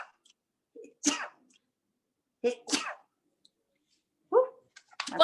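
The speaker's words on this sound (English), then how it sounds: "Those are my famous sneezes that people make fun of." A person lets out a series of short, sharp sneezes, about three or four separate bursts spaced a second or so apart, close and clear against near silence.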